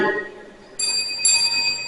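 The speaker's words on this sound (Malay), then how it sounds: "Pada minit kelima, loceng akan dibunyikan sebanyak 2 kali." A bell marks time at a district-level Malay storytelling competition for primary pupils, two clear bright rings struck in quick succession, the tone lingering indoors.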